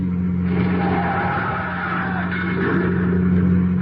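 A car skids off the road into a ditch, a loud, sustained tire-scraping skid with engine noise running continuously for several seconds.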